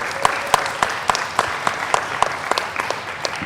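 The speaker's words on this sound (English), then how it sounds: "A big round of applause for our youth delegates." A round of applause for youth delegates at a panel on gender and the green transition: a steady crowd clapping in a loose, pulsing rhythm that carries through to the end.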